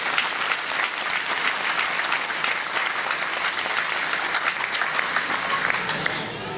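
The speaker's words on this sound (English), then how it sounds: "Let's give him one more round of applause." A crowd at a salute-to-heroes event gives a sustained round of applause, dense and even clapping from many people, fairly loud and continuous for over six seconds.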